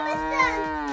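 A cow lets out a long, loud, close moo that holds steady throughout, with faint sounds in the background.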